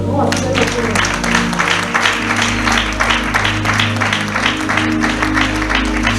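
Church congregation applauding and acclaiming the Lord, sustained clapping from many people over a low musical drone, with voices mixed in throughout.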